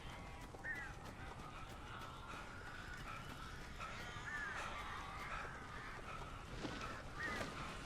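Crows caw in the video game Alan Wake, with several hoarse calls spread across a dense, noisy game soundscape and a faint hint of voice in the background.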